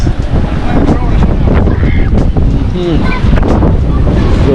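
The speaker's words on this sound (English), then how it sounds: "This is very windy, it's very rough." Strong wind buffets the microphone beside rough, churning sea water, a loud continuous roar with voices speaking intermittently over it.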